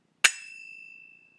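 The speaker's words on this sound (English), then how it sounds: "Yeah, so those are the finger cymbals." Finger cymbals struck together once, producing a bright metallic clink that rings out clearly alone and fades away over about a second.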